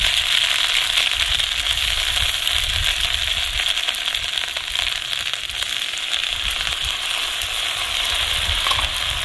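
Ground green chili and ginger paste frying in hot oil in a village kitchen, a loud continuous sizzle and crackle that holds steady from start to finish with no talking.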